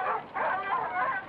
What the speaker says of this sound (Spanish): Repartid los perros en todas las direcciones.